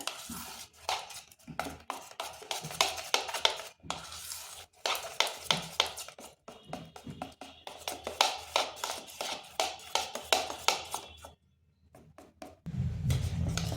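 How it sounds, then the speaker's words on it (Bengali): Cake batter being mixed by hand after baking powder is added, rapid clinking taps of a utensil against a bowl in a fast steady rhythm, close up, with a short pause before the end. "ভালোভাবে মিশিয়ে নিচ্ছি বেকিং পাউডারটা"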